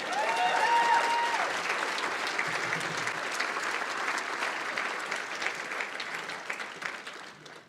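Sustained applause from a school audience after a young student's Shakespeare recitation, steady and fairly loud throughout, thinning slightly toward the end.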